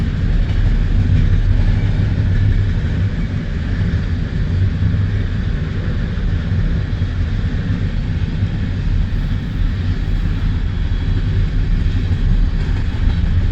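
A black BNSF freight train rolling past in the American Midwest, a loud continuous low rumble and steady rolling roar, close and unbroken throughout with no talk.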